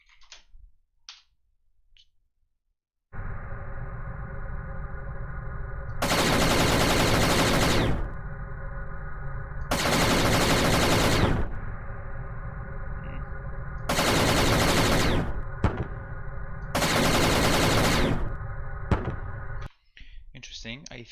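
An X-Wing's blaster fire in a Godot game sounds as repeated loud bursts over a steady engine drone, four long volleys separated by gaps, with a few clicks at the start.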